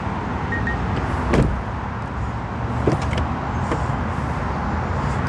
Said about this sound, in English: Let me open up the car.